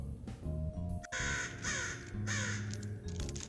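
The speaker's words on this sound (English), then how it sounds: "hello, Crow." A crow cawing nearby outdoors, several loud harsh caws in quick bursts, close to the microphone.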